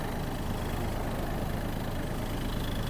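A Kubota T-220 tractor engine idles steadily, a continuous low rumble that holds even and loud throughout with no other sounds.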